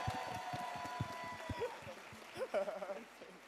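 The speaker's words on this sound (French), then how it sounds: "donc applaudissez s'il vous plaît" A gala show audience applauds with scattered claps and chuckles, a modest burst of clapping that thins out, with some crowd murmur.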